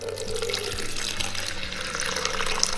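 Water is poured into a measuring container in a steady splashing, trickling stream, close and continuous for a few seconds, with no talking.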